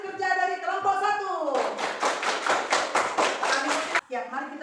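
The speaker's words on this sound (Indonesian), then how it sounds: "mari kita berikan tepuk tangan buat hasil kerja dari kelompok 1" Students in a fifth-grade classroom clap together for a group's discussion work, a short burst of distinct rhythmic claps between voices talking before and after.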